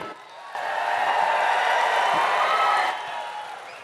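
A large crowd at a BJP political rally in Bhongir claps and cheers in a sustained, dense roar of applause that swells, holds for a few seconds, then eases off, heard from a distance.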